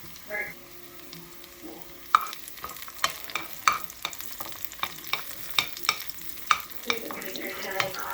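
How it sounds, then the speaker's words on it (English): Onions fry in cooking oil in a skillet that also holds steak. A low, crackling sizzle is punctuated by regular sharp clicks and scrapes of a utensil against the pan, with no talking. "the cooking oil is being seasoned by the onions"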